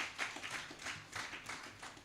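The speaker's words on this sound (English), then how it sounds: "I think we need to give ourselves a round of applause" A small round of applause at a university project workshop, scattered handclaps from a modest group, fairly faint and uneven over a short stretch.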